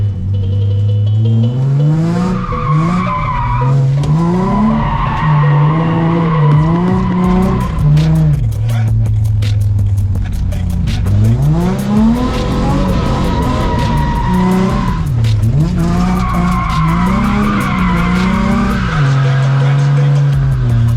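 A twin-turbo Callaway Corvette drifts on track, its engine revving hard in rising and falling sweeps while the tires squeal loudly and continuously, close and dominant throughout.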